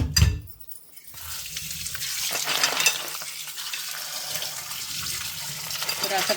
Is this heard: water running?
yes